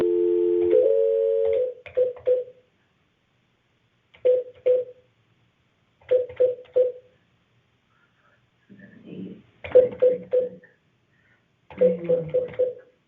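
A telephone number is dialed as a series of crisp DTMF keypad tones, beeping in quick clusters with pauses between, after an opening stretch of steady tone, alone and fairly loud.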